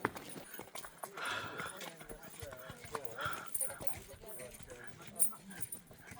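Mule hooves clip-clop on desert ground near Petra, a steady walking rhythm of soft thuds heard under ongoing talk from several people.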